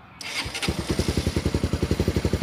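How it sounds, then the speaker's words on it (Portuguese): A motorcycle engine in neutral cranks and fires up after a short starter whir, settling into a loud, close, evenly pulsing idle. "vamos ligar nossa moto, ligando o contato, vou injetar a gasolina e no ponto neutro eu vou dar a partida"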